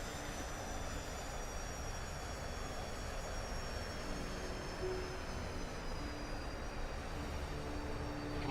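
A Douglas DC-9-32 airliner on final approach in a flight simulator gives a steady, even engine drone with a faint whine, unbroken throughout.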